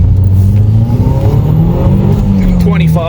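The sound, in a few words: car accelerating in first gear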